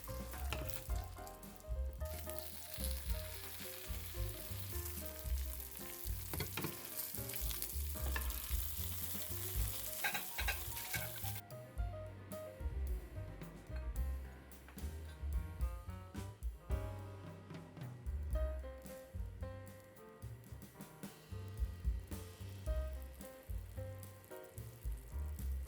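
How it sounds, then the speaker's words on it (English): Rice paper packages fry in a shallow pan of oil, giving a loud, continuous sizzle and crackle that runs throughout, with occasional soft scrapes as a spatula presses them down. "After flipping them, I gently press them down with a spatula to get them fried up evenly."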